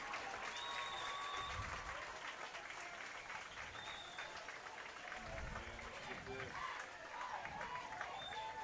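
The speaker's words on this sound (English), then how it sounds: "Let's give Sharif Bacon a round of applause" A high school football crowd applauds a player walking off the field, scattered clapping and cheers carrying from open stands, fairly faint and distant, with an announcer's voice and crowd chatter mixed in over low rumbles.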